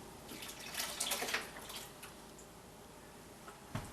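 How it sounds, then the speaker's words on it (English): Filtered warm water pours into a brewing pot while making peach mead, a soft continuous splashing stream, louder in the first second and a half, then thinning to quiet trickles and a last drip. "I'm pouring the last of it now."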